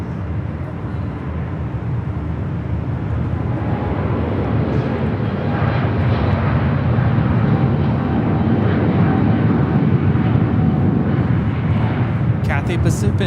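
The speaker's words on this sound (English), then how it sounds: "Cathay Pacific Flight 881 taking off to Hong Kong on the 777-300ER" A Cathay Pacific Boeing 777-300ER takes off from LAX on Flight 881 to Hong Kong, a loud, steady jet roar holding through the whole stretch, with voices talking underneath.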